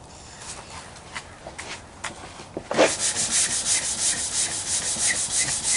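Sanding board with 240-grit paper rubbed over primer on a fourth-generation Camaro hood or bumper, starting with a few light scrapes, then settling into steady, close back-and-forth strokes.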